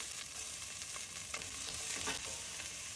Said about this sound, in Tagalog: Saute onions and garlic until translucent and aromatic.